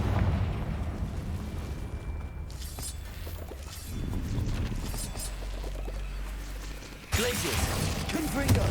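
Confringo fire spell explosions in the video game Hogwarts Legacy, a sustained rumbling roar of blasts with a sharp new burst near the end.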